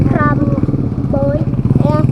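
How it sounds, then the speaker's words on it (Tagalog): Motorcycles run along the roadside of a main road by Suburbia Gate 2 in San Fernando, Pampanga, a steady, fairly loud low engine rumble filling the whole stretch while a person talks over it. "Mga motor dito sa gilid."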